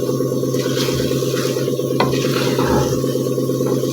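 A spoon scrapes and stirs rice into chana dal biryani in a pot, giving close, repeated scraping strokes over a soft sizzle with no speech.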